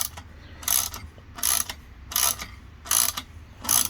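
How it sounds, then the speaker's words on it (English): A ratchet clicks in five quick bursts, evenly spaced, while tightening the exhaust clamp on a 2021 Kawasaki Ninja 400 ABS; each burst is crisp and close, with quiet pauses between them. "I'm not going to tighten it too hard because that other one wasn't really on there hard."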